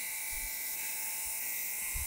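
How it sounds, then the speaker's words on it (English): A cordless airbrush gun gives off a steady, faint electric hum and hiss while spraying light green color onto wafer paper, with a few low bumps and no talk. "this is cordless airbrush gun, and I have my piece of wafer paper already colored. I'm going to gently airbrush that with this lighter green color."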